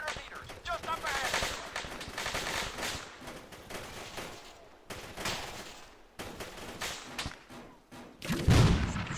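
Rapid rifle and machine-gun fire from the military shooter game ARMA 3 crackles in dense, uneven bursts with brief pauses, ending in a heavier, booming shot, while voices talk underneath.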